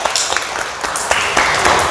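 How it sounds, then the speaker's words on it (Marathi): Young children in a first-grade classroom clap their hands in a quick, loud, uneven burst that lasts under two seconds. "टाळ्या वाजवा त्याच्यासाठी"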